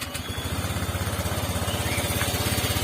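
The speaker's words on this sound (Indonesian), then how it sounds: "Nah ini coba saya hidupkan motornya." Water-cooled motorcycle engine running just after starting, a close, even low putter with a steady rapid pulse and no talking.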